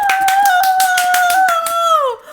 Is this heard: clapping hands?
yes